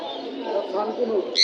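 Pigeons coo in a soft, continuous low murmur at a crowded pigeon market in Mirpur, Bangladesh, with people talking close by.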